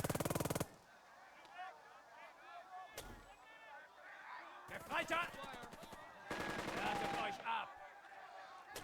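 Enemy gunfire aimed at Thompson in the war strategy game Burden of Command comes in sharp bursts, with rapid machine-gun rattles and single loud shots. Quieter tonal game sounds fill the gaps, all close and fairly loud.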